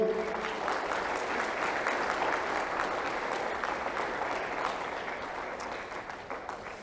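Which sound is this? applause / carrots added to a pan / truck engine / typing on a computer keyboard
applause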